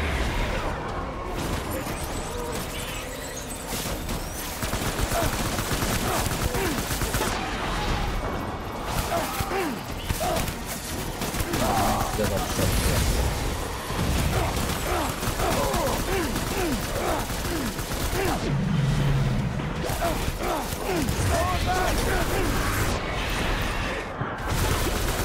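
Sustained gunfire from the video game Death Stranding rattles almost nonstop for about twenty-five seconds, dense bursts layered with explosions and loud throughout, with voices speaking intermittently beneath the shooting.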